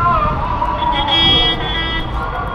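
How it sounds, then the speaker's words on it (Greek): Car horns in Cairo street traffic, sustained honking tones blaring close by with overlapping horns, over street noise and passing talk. "Η κόρνα, μιλάμε, δεν σταματάει έτσι."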